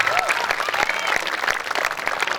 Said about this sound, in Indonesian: tepuk tangan buat santri-santri dan wali santri